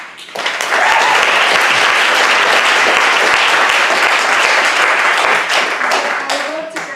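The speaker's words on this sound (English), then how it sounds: "Let's give them a round of applause." Loud, dense applause from an audience swells in quickly and holds steady for several seconds before tapering, with a few voices mixed in.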